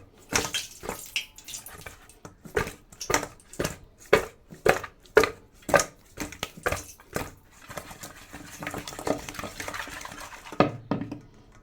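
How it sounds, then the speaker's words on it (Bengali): A spice mixture for tilapia fish curry, made with coriander, tomato and a bay leaf, is mixed by hand up close. It gives a quick run of rhythmic scraping, crushing strokes that slow to softer, irregular stirring. "চলো ভালো করে মিশিয়ে নিই।"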